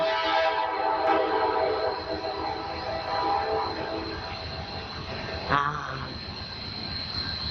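Train whistle echoing in mountain country, a sustained tonal blast with harmonics that fades and wavers over several seconds, followed by a brief louder burst and lingering rumble.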